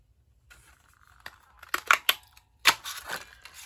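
A Stampin' Up! craft punch snaps through cardstock to cut out a stamped paper image: a few sharp, close clicks and crunchy presses in a quick cluster, with a short pause before the last firm punch and no talking.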